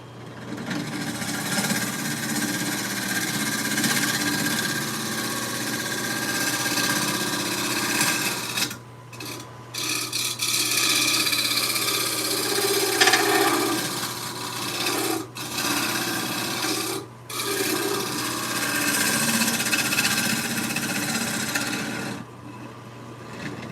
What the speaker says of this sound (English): I think I can start cleaning it out with the scraper here.